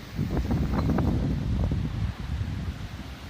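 Strong cyclone wind buffets and roars in steady gusts, with rustling leaves and low rumbling noise hitting the microphone close up.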